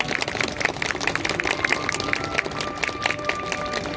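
Applause from an outdoor crowd at a horse race award ceremony, a dense ongoing clatter of clapping with faint steady tones behind it and a low rumble of crowd noise.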